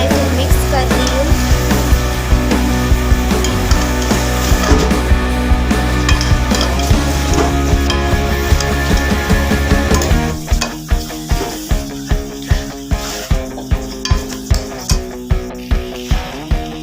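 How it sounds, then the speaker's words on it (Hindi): Carrot, potato and pea curry is stirred in a pot with a spoon, a steady close sizzle giving way to a run of regular scraping strokes against the metal. "मैं इसे मिक्स कर रही हूँ।"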